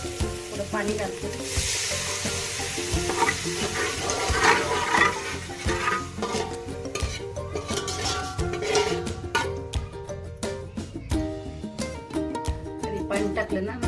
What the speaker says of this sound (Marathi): त्यामध्ये पाणी घालते.